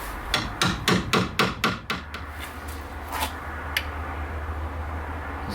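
A moisture meter's pins are hammered into a stacked wooden board in a lumber drying setup: about eight rapid, evenly spaced sharp knocks close by, then a few fainter taps over a steady low hum.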